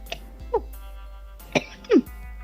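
A few short, abrupt bursts from a person, sneeze-like, close and separated by brief pauses, with no talking.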